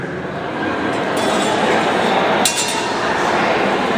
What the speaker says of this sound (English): he moved from one guard into another guard. And it has a cool name called winding. It also sounds really cool.